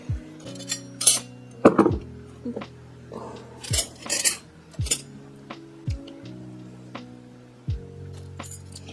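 Small silver-plated forks clink and tap against one another in a series of sharp, bright knocks, irregularly spaced, close by with no talking.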